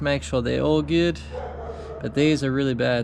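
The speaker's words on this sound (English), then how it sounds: "Sorry about my dog barking." A pet dog barks in short sharp bursts near the microphone while someone talks about worn car parts in a home garage.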